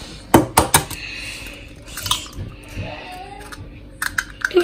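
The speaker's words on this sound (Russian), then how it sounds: "Вот такой у нас получился фарш. Мы его сейчас перемешаем." Minced fish is stirred in a bowl for fish cutlets, with sharp clinks and scrapes of utensil against the bowl in uneven bursts and quieter handling between.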